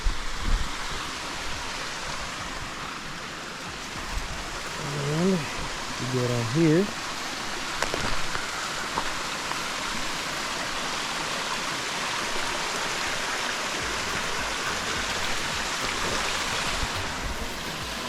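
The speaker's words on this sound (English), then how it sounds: "they have a creek." A creek runs steadily with a broad, even rush of water throughout, and someone speaks briefly over it partway through.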